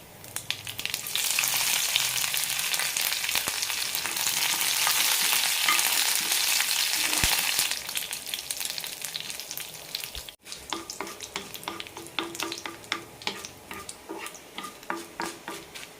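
Curry leaves and urad dal fry in hot coconut oil for a kara chutney tempering, giving a loud, steady sizzle that eases after several seconds into crackling spatters and stirring clinks from a utensil against the pan.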